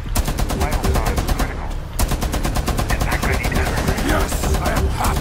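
Rapid, relentless bursts of Tachanka's mounted turret machine gun in R6 Extraction, loud and close, with a brief pause near the two-second mark before the fire resumes, amid game effects and shouts.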